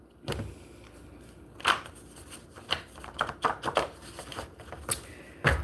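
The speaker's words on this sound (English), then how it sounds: "I'm going to shuffle." Deck of playing cards being shuffled in a quiet room, a few quick riffling and tapping bursts spread across several seconds.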